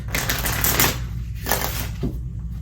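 A deck of cards is shuffled during a tarot-style reading, giving repeated bursts of crisp riffling and fluttering clatter that come in uneven waves, close and fairly loud, with no speech.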